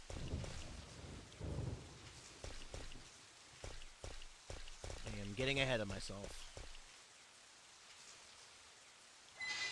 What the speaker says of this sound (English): There's something just so relaxing about the rainy park.